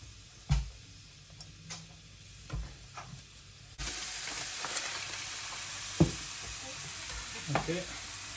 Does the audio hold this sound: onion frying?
yes